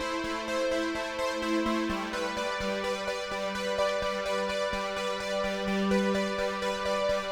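A BlueARP synthesizer arpeggiator plays a steady, rapid repeating sequence of plucky notes cycling through a simple three-key pattern, all steps triggering, bright and continuous.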